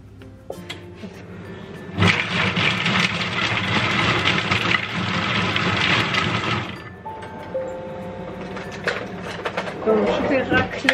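Food processor chopping carrots and red peppers at speed 5, a loud whirring burst of blades starting abruptly and running for about five seconds before cutting off, with quieter clatter and a voice around it.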